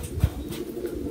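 Domestic pigeons cooing nearby, a low soft coo swelling once early and then fading under a steady background hum, briefly and fairly quietly.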